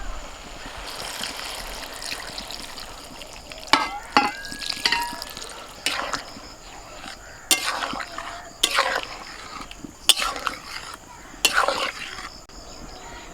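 Water poured into a cooking pan of frying vegetables, egg and lentils hisses and sizzles softly, with scattered sharp clinks and stirring clatters of a utensil punctuating the steady bubbling, close by and moderately quiet.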